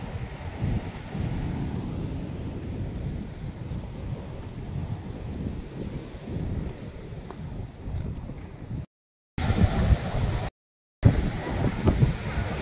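Strong high-tide sea waves pound a seawall in a steady, loud roaring wash with gusty wind buffeting the microphone, broken by two brief dropouts near the end.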